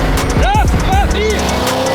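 BMW drag racers, including an E39 M5 and a Stage 2 BMW 340 with a 3-litre turbo B58, launch with loud, wavering tire squeal over roaring engines, up close.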